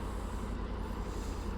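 Heavy road traffic at traffic lights, with a bus and other vehicles idling nearby and a steady low engine rumble throughout, plus a brief soft hiss that could be an air brake.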